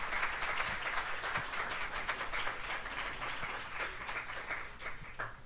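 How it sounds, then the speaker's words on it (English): A seated audience gives a panel discussion a steady round of applause, a dense wash of many hands clapping at moderate distance, fairly even throughout. "Let's give them a round of applause."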